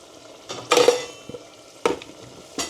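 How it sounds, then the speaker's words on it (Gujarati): A spoon stirs spice masala and tomatoes in a pan for matar paneer. Several scraping, sizzling strokes come in uneven bursts, close up, with no voices. "ચલો તો મસાલાને પણ મિક્સ કરી દઈએ"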